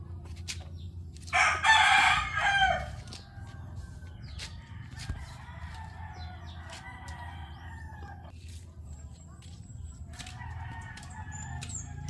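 A gamecock rooster, a four-time fight winner, lets out one loud close crow early on, followed by quieter clucks and scattered calls over a soft outdoor background.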